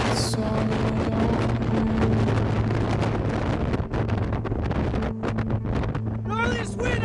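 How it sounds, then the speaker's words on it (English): Strong storm wind buffets the microphone with a heavy low roar while surfing, continuous throughout, with a sung vocal track playing over it. "Gnarliest wind I've ever been in!"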